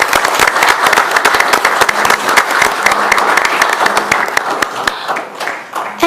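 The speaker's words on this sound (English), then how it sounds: "Let's give her another round of applause." A city council meeting audience applauds an award winner, a close, lively burst of many hands clapping that holds for about six seconds before starting to thin out near the end.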